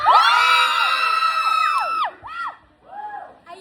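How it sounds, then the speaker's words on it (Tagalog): A group of voices erupts in loud, high-pitched shouting and cheering at a year-end party, then trails off into a few scattered yells. "Sa lahat ng team ni Madam Ten Gibbs, isang sigaw naman dyan!"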